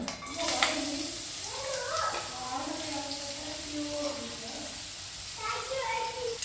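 Chopped onion dropped into a little hot oil in a pan, giving a soft, steady sizzle beneath someone speaking in Kannada throughout, with a few faint clinks of stirring.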